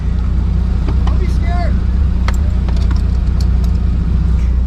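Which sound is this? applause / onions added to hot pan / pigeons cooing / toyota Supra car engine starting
toyota Supra car engine starting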